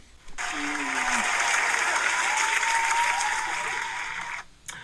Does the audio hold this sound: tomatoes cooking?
no